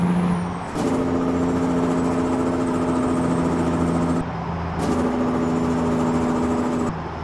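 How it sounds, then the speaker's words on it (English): A truck's Cat engine with straight pipes runs its Jake brake in American Truck Simulator: two long, loud, throaty rattling bursts, each cutting off before the engine settles back. "it's got a great sounding Jake brake"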